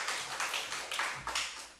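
A church congregation claps in a quick burst of scattered applause for the broadcast team, faint and short, with no talking over it.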